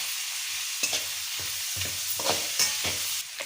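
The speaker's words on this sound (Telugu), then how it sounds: "అలా ఎర్రగా అయ్యేదాకా మిక్స్ చేసుకోవాలి." Noodles being stirred as they fry in a pan on a gas stove, a steady sizzle broken by several distinct scraping strokes of the spoon, close and alone with no voices.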